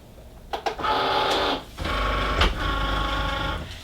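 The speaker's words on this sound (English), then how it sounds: "Load the Cricut." A Cricut cutting machine with a brand-new blade cuts sticker tags, giving a steady mechanical whir and hum with brief clicks at the start and a short pause midway before the motor resumes.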